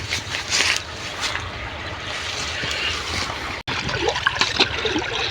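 Irrigation water runs into a maize field with a continuous gurgling trickle and wash of flowing water, fairly close and steady, with a brief dropout partway through.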